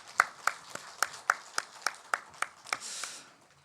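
A church congregation clapping for the choir at a Sunday worship service, about a dozen distinct, evenly spaced claps, fairly faint, with a brief swell near the end.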